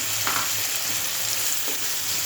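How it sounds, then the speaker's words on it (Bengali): Onions frying with salt in a pan give a constant close sizzle, steady and dense throughout, with a couple of soft stirring scrapes and no talking. "পেঁয়াজটা কষানো"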